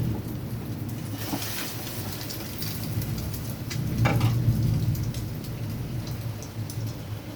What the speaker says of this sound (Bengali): এবার আমরা এপিঠ ওপিঠ উল্টে ভালো করে ভেজে নেব।